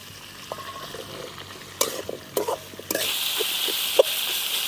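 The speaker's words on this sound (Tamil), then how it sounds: "நல்லா தக்காளி பழத்தை வதக்கி விடணும்" Tomatoes sauté in a pan for sambar, with a few clattering stirs and scrapes before the frying hiss swells louder and steadier.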